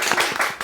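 A small group claps to open a lecture, a few quick rhythmic bursts of hand claps close by, short and lively, with no talking over them.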